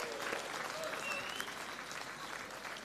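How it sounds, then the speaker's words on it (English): The home crowd at a men's curling world cup match in Jönköping, Sweden, gives steady applause that echoes through the arena. A voice is faintly audible beneath the sustained clapping. "Certainly deserves an applause from the home crowd"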